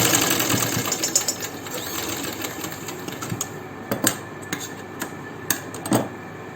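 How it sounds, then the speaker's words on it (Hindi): A sewing machine stitches a frill onto a neck strip for a blouse neckline, close and steady with rapid mechanical ticking, broken by short clicks and brief pauses as the fabric is guided. "मैं सबसे पहले इस फ्रिल के साथ, इस फ्रिल को इस पट्टी के साथ जोड़ रही हूँ इस तरीके से, यहाँ सिलाई लगा के"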